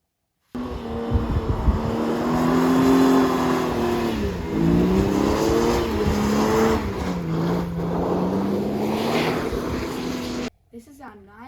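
A 1978 Ford XC Falcon sedan with a 5-litre 302 four-bolt Windsor engine revs close by, its deep steady rumble rising and falling in pitch for about ten seconds before abruptly cutting off, with talk over it.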